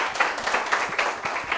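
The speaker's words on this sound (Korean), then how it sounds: "큰 박수 맞아주시기 바랍니다" Participants in a morning school group meeting clap together, a busy patter of many hands with slightly uneven bursts, fairly close and lively, with no speech over it.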